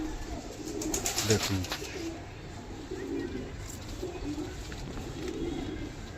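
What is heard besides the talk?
pigeons cooing after a pair is released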